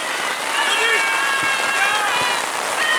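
Steady heavy rain hisses across the whole stretch during a football match, a dense wash of drops with a few faint voices and thuds underneath.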